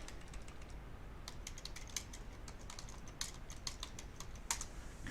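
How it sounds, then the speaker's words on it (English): Quiet, rapid keystrokes on a computer keyboard, a run of light clicks in uneven bursts over a low steady hum while an answer is typed. "Type in wrong answer."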